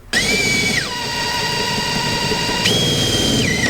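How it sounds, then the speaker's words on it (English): A loud power drill whines continuously, its pitch dropping as it bites in, then rising again when the load eases. "I'm drilling holes in it already."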